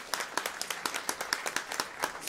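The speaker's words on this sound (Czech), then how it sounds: "potlesk." Audience claps for the boys of the Lipovjan folklore ensemble at a live cimbalom-band music show, a light, irregular patter of hand claps lasting a couple of seconds, moderately close, with no voices over it.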